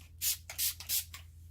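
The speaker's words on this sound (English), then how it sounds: "I'm going to spray my face with my Wild Matte Finishing Spray" Three quick hissing bursts of matte-finish setting spray misted onto a face at close range, evenly spaced, with a faint rustle after.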